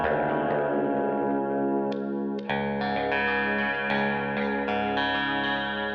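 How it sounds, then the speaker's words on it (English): Electric guitar run through a compressor, delay and reverb from a Plethora X3 on a Boss ES8 pedalboard, sustained chords ringing with a new strum around the midpoint and steady repeated attacks after, loud and close with no talking. "I'm using the compressor and a delay and reverb off the Plethora X3"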